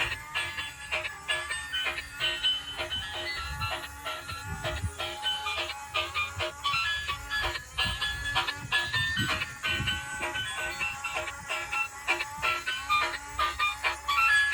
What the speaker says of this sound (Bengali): চমৎকার, খুবই সুন্দর একটি হ্যাপি ট্রেন, গিয়ার ট্রেন বলতে পারো।